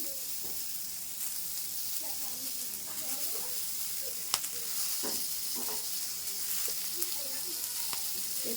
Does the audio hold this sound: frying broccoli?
yes